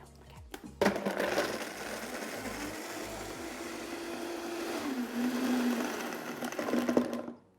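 A blender whirs through a chocolate nut drink in a vegan kitchen, a close, steady motor drone that starts abruptly after a brief click and runs on with a slight pitch change near the end.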